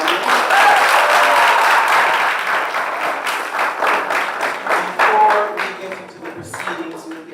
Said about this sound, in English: please, a round of applause for the teams that have made it this far